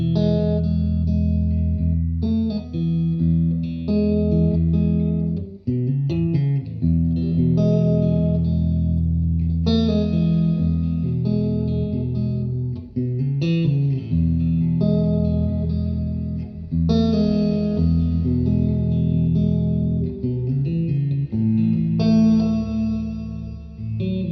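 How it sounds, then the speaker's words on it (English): Electric guitar through a PRS MT15 amp, miked with a Sennheiser E609, with a Mojo Hand FX RVT reverb pedal engaged, strummed chords and picked notes ringing out with a lingering wash of reverb, loud and steady, with no voices. "So now we're just gonna start to add some reverb."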